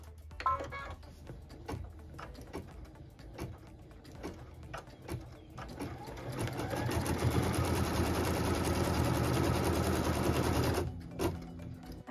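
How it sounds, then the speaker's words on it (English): A sewing machine stitches a cut line across quilt block pieces, running steadily for about five seconds and then stopping, after a few soft handling clicks and taps. "we'll return it to the machine and we're going to stitch a cut line on this side of piece two"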